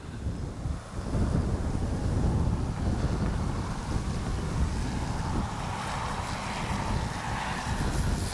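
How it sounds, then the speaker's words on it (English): Strong gusting wind roars and buffets the microphone outdoors during the maiden flight of an H-King Flybeam 2 RC plane. The rumble is loud and continuous for the whole stretch, with no voices. "Hopefully the wind will calm down some."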